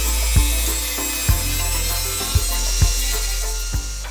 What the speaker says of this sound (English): cut off the rough pieces of wood, maximizing the width of the board